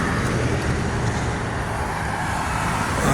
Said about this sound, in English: Oncoming traffic is medium.